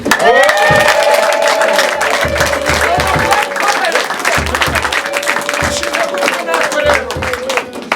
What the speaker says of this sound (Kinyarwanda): Abagabo gukomera amashyi.